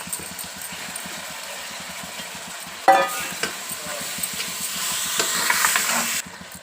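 Half a kilo of chopped tomatoes cooks in a pan of tempering with turmeric and curry leaves, giving a steady low sizzle with stirring scrapes and a louder clatter near the middle, for mango dal.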